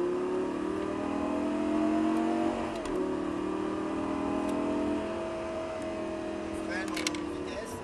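A Lamborghini Gallardo Superleggera accelerates around a track, its engine tone climbing steadily and loudly, with a brief dip near the three-second mark, while a voice speaks over the engine.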